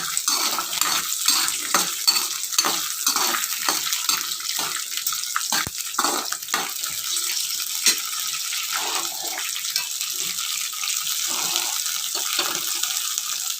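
Onions frying gently in oil in a pan for an egg dosa peanut chutney: a steady, close sizzle and hiss with occasional stirring scrapes and clinks, no talking.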